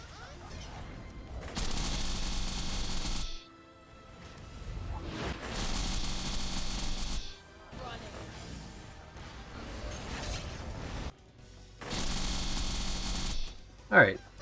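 Turrets in a modded video game gun at the player, laying down long sustained bursts of rapid fire that stop and start in three or four separate stretches, with quiet gaps and talk in between.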